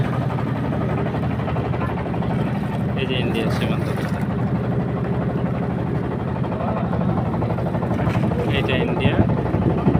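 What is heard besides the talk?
small trawler boat engine crossing river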